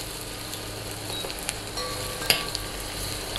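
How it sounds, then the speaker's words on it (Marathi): Finely chopped onion hits hot oil for a vegetable Malvani rassa, giving a soft, steady frying sizzle with a few light clinks and stirring taps, fairly quiet and close, with no talking. "आता त्यातच घालत आहे कांदा। तर एक कांदा जो आहे तो मी बारीक चिरून घेतलेला आहे तो टाकत आहे।"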